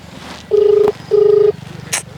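A telephone is dialed at home: two long, loud keypad tones, each about a third of a second, ring out in steady succession over a faint low hum, followed by a brief higher click.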